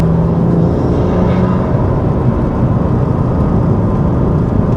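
A remapped BMW M2 Competition with a manual six-speed gearbox and anti-lag, making over 520 bhp, drones in a loud, steady low rumble as the throttle is lightly feathered on a road leaving a village.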